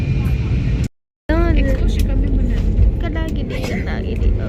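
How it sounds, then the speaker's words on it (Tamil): Inside a passenger airplane landing in Singapore, a steady low cabin and engine rumble runs throughout, briefly cutting out, while people talk over it. "இப்போ வந்து ஃப்ளைட் வந்து லேண்ட் ஆகிட்டு இருக்கு."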